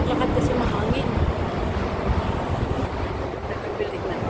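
Steady wind buffeting a microphone while walking outdoors, a continuous loud rumbling roar with no pauses.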